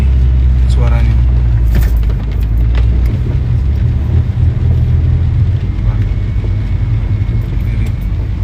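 Car engine running in first gear during a driving lesson, a loud continuous low rumble from inside the cabin with a faint rise in revs, heavily mixed with people talking.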